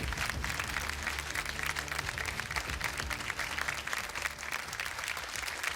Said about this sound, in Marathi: जोरदार टाळ्या होऊन जाऊ द्या या 8ही जणींसाठी